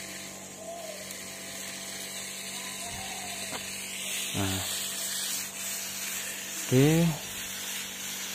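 A hand sprayer is adjusted with a few mechanical clicks and ratcheting sounds, then gives short hissing sprays onto oyster mushroom baglogs, with brief speech nearby.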